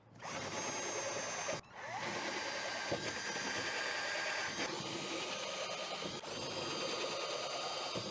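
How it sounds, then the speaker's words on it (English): A power drill with a larger bit bores through the deck of a Perception Outlaw 11.5 kayak, whining steadily and close in long continuous runs broken by a couple of brief stops. "I'm going to step up to a bigger drill bit, a drill bit that's going to be larger than the size of the screw"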